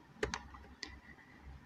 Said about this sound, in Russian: Нажимаю на клавиатуре клавишу Print Screen.